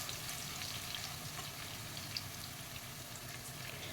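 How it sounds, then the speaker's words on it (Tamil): Sliced onions, a sprig of curry leaves and dried red chillies sauté in a pan for a pumpkin gravy, giving a steady, close, even sizzle with faint crackles throughout and no talking. "வெங்காயம் ஒரு 2, ஒரு கொத்து கறிவேப்பிலை, ஒரு காஞ்ச மிளகா ஒரு 4-5 இதை சேர்த்து நல்லா வதக்கலாம்"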